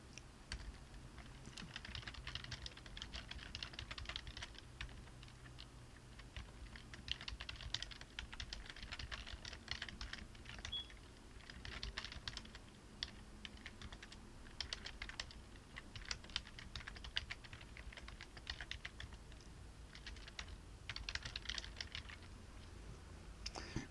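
Steady typing on a computer keyboard while C++ template code is written, irregular bursts of clicking keys continuing throughout over a faint low hum, no voices.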